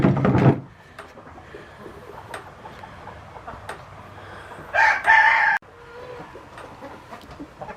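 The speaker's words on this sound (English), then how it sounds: "You think with this many chickens there's more running around all over the place." Chickens clucking and a rooster crowing in an outdoor yard, with scattered calls over a steady background and a louder burst midway.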